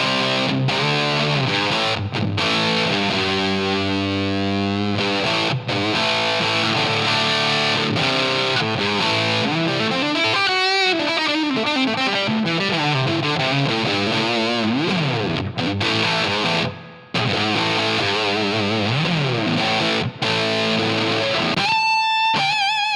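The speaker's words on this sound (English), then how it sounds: "When I kick this reverb on, you're going to notice the reverb is going to sound mostly in the right speaker" Heavily distorted electric guitar through a Line 6 HX Stomp plays sustained chords and sweeping notes, washed in reverb panned mostly right, loud and continuous with a brief dropout near the end.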